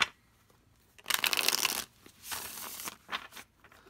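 A thick tarot card deck being shuffled up close, one long crisp riffle burst followed by shorter softer shuffling bursts with brief pauses between.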